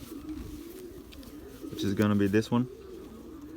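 A Belgian racing pigeon coos in a short burst of throaty, pulsing notes close by, following someone talking.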